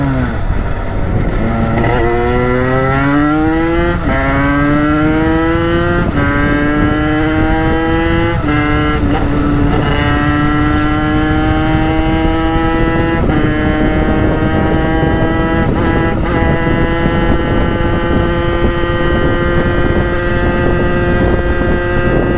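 A motorcycle engine running after carburettor tuning, loud and close, revving up in repeated steady pulls that rise in pitch, then holding a high drone with slight vibration for a long stretch.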